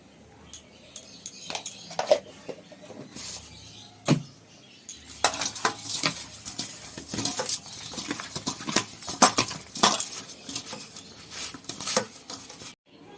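Pieces of fish being mixed by hand with salt and turmeric in a dish, heard as soft wet squishing and patting with occasional sharp clicks of the bowl, irregular and close.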